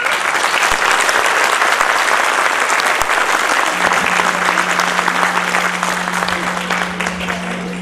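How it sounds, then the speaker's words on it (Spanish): A crowd at a folk dance festival applauds the Ballet Folclórico Independiente NIMBE from Mexico, a loud continuous wash of clapping that carries on throughout, joined midway by a steady low hum. "por favor un aplauso bien"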